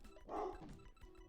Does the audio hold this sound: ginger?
no